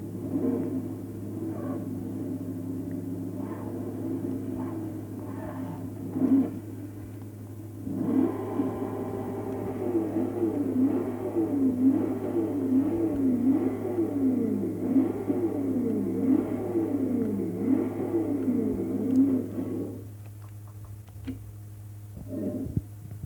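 Dodge Daytona Charger engine in the racing game Forza Horizon 2, a low droning idle that swells into a rising and falling revving roar, then settles back to idle with a few pops.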